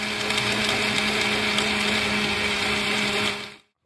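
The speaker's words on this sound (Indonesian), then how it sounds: "sementara sabu di blender" An electric blender whirs loudly and steadily, crushing seized methamphetamine during an official drug destruction by prosecutors in Lhokseumawe, then winds down and cuts off.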